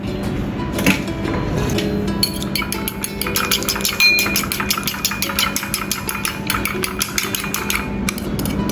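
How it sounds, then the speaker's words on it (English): An egg is beaten in a bowl for a banana energy bar, a fast, even series of clinking whisk or fork strikes against the bowl repeating steadily over a low background hum, with a few sharper knocks near the start. "Crack egg into bowl and beat until frothy."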